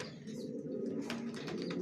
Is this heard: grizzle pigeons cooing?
yes